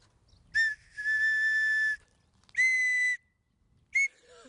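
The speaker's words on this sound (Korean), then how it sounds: "바로 정답은 호루라기였습니다." A whistle is blown in three separate bursts, a short toot, a long sustained blast and another medium one, with a brief final chirp, loud and close against a quiet background.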